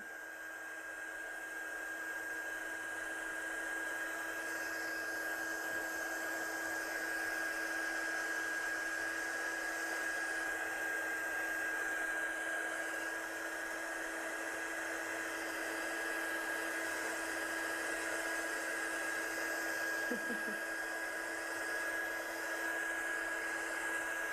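A heat tool blows steadily over pieces of watercolour card, a constant loud whooshing hiss with a thin high whine that runs unbroken throughout.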